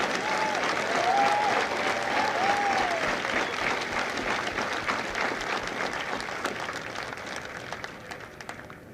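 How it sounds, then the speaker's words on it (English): Audience at a Marine Corps recruit graduation at MCRD San Diego applauding drill instructors, a broad, sustained round of clapping that gradually fades toward the end. "please join me in a well-deserved round of applause for the drill instructors of Alpha Company"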